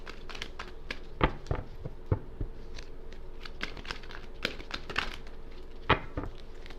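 Crisp, papery clicks and crinkles come in quick irregular bursts, like a deck of cards being riffled and shuffled up close, with no talking.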